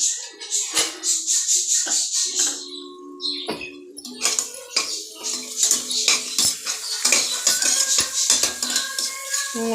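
A spoon scrapes ginger garlic paste out of a mixer jar into a cooking pot, making repeated close metallic clinks, taps and scraping clatters in an irregular rhythm.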